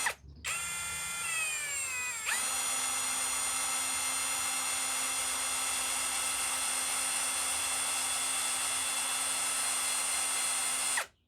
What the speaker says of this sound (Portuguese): Então com muita calma eu vou começar a furação.